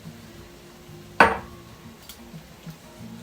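Artichoke hearts, olives and capers drop into a cooking pot of caponata with one near, sharp clattering splash, followed by a faint simmer and small clinks.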